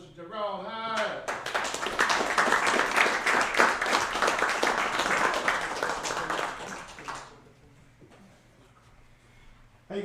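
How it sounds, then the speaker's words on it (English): Audience applause for Jerome Hyde, a church and community figure, at a live event: a dense burst of clapping for about six seconds that fades out, with a voice speaking over the start. "Let's give a round of applause for Mr. Jerome Hyde."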